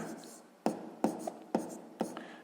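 Handwriting during a sixth-grade math exercise, with four distinct scratchy pen strokes spaced about half a second apart over a faint steady background.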